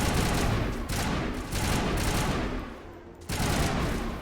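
Mass Effect gunfire rattles in loud, dense automatic bursts, several sustained volleys separated by brief gaps, with no talking over it.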